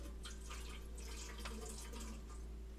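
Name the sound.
water being poured for a pet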